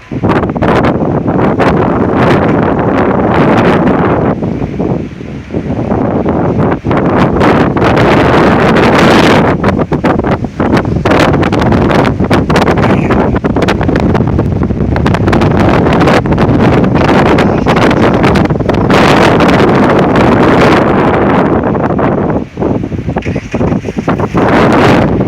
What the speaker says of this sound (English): Yeah, that's 50 miles an hour gust easy.